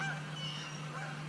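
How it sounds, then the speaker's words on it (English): Geese honk in the distance, a couple of faint nasal calls over a low steady hum. "Now the geese are getting in on this."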